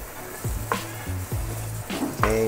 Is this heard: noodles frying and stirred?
yes